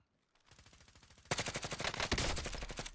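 Rapid automatic fire from a Grau 5.56 rifle in Call of Duty Modern Warfare, a short faint burst followed by a loud, sustained stream of close, evenly spaced shots.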